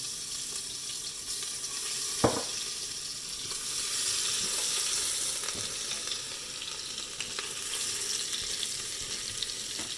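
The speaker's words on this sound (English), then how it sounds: "So the oil is nice and hot. I'm going to add ginger garlic paste, minced ginger garlic, which I just grated." Grated ginger garlic paste fries in hot oil in a pot, giving a steady, fairly loud hiss of sizzling that runs throughout, broken by a couple of sharp utensil taps.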